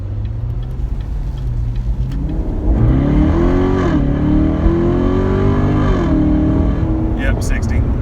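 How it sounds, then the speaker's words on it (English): A stock C7 Corvette with its factory exhaust, fitted only with an aftermarket air filter, accelerates hard. A loud, steady engine drone rises in pitch through the gears, and voices can be heard over the engine. "And it sounds really good, and it's stock exhaust."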